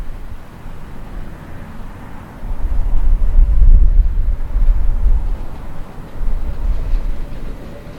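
Battery locomotive hauling a London Underground CBTC test train on the District Line, heading southbound towards Wimbledon past a road bridge; a low rumbling pass that swells to its loudest mid-clip and then fades, with wind buffeting the microphone.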